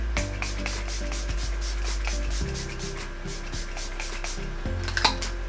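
Milani Make It Last setting spray misted onto a face, a run of quick, soft hissing spritzes repeating in rapid succession, close but fairly faint over a low background hum.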